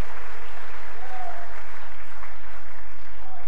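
Loud applause and cheering from a church congregation during a French and Swahili sermon, a dense steady wash of clapping that fills the space throughout.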